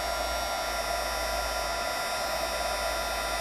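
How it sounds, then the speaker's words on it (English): A heat embossing tool blows hot air over embossing powder on a holiday card, a constant loud whooshing whine like a small hair dryer, steady and close throughout. "So I'm going to use my embossing tool."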